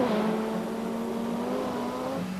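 Rally car at full speed, flat out in fifth gear at about 180 km/h on a straight of a Finnish rally stage in 1984, its engine holding a loud steady high drone with a slight pitch drop near the end.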